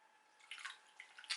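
Warm water drips from a soaked muslin cloth in a few faint, close, irregular drops in an otherwise quiet space.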